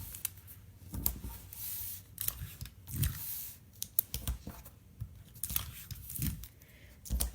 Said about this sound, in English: And I'll tape around the edge.